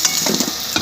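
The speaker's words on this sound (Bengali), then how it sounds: "পরপর আলুগুলো একটু ভেজে নিলাম।" Potatoes fry in a pan of oil for a Bengali boal fish curry, giving a brief, steady sizzling hiss close by with a few soft pops.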